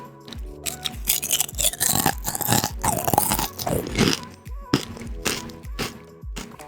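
Loud, close crunching as a chip is bitten and chewed, a rapid series of crisp snaps and grinding bites in quick succession.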